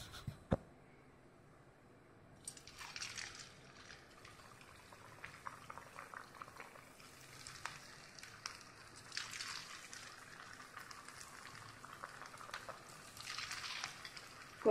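Potato smileys slid one by one into hot oil for deep frying, setting off a bubbling, hissing fry that starts after a quiet moment and keeps going with light pops and rising surges.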